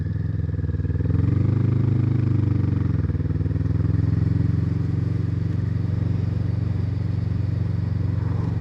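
A Harley-Davidson motorcycle passing on the road, its engine a loud, steady low rumble that swells briefly as it goes by and then holds as a continuous drone.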